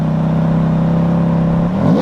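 A Ferrari engine with worn wheel bearings holds a steady, loud droning tone, then shifts pitch sharply upward near the end as it revs.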